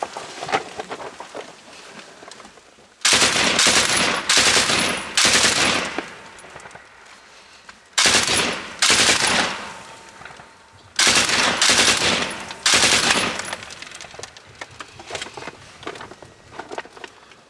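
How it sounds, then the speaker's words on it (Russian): An automatic grenade launcher (AGS) firing in combat near Donetsk in December 2014, heard as three loud, rapid bursts of repeated blasts separated by quieter stretches, with no speech. "Сработал сейчас АГС."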